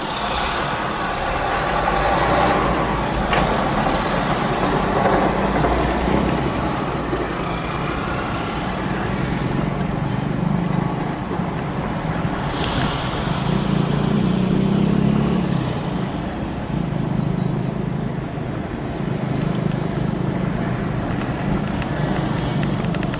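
Heavy road traffic on a city avenue: a steady, dense rumble of car and truck engines idling and passing close by, with occasional hiss and brake sounds, continuing without a break for over twenty seconds.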